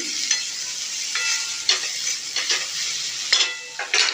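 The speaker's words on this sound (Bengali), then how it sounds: "দিয়ে আবারও ভালো করে মিশিয়ে নিচ্ছি" Bitter gourd being stirred in a frying pan with salt, a steady sizzle under repeated scrapes and clinks of the spatula in irregular bursts, close and moderately loud, with no talking.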